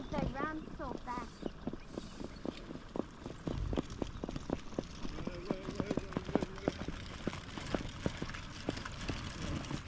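Rapid hoofbeats clatter steadily in the background while people talk nearby, the clip-clop continuing throughout.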